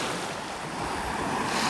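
Surf rolls onto the beach at Molodezhny in Golubitskaya on the Azov Sea. A steady wash of waves is mixed with wind buffeting the microphone and swells slightly louder toward the end. No one speaks.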